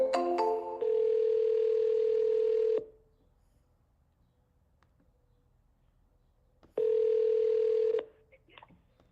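An outgoing phone call: a quick run of keypad dialing tones, then a long steady ringback tone, a silent gap, and a second long tone. The tones are clear and prominent, and no one speaks.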